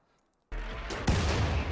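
A mortar firing in the game Rimworld on a scorching planet: a sudden loud boom breaks the silence, then a second heavier thump with rumbling low-end tail close by.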